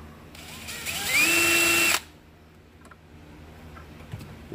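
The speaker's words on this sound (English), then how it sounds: "A smaller 1/8 inch drill bit." A power drill with a smaller 1/8 inch bit briefly spins up to mark hole positions on a DIY ice-fishing power box, giving a loud whine of under two seconds followed by quiet handling clicks.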